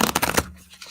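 Playing cards shuffled during a live writing-sprint session: a quick burst of riffling flutters for under half a second, close and fairly loud, then a quiet room.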